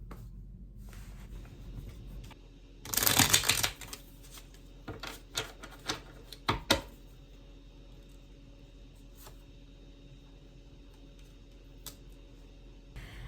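A deck of cards shuffled by hand close by: one dense burst of rapid riffling clicks, then a few scattered soft taps and shuffles, with no talking.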